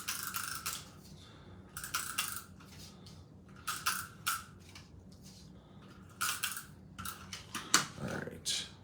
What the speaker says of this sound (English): Let's go ahead, use our tape runner.